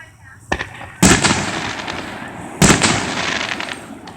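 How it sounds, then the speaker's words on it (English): Fireworks burst outdoors in an alley near a yard: two sharp, loud cracks about a second and a half apart, each trailing into crackling rumble, with a fainter pop before them. "People always set off fireworks."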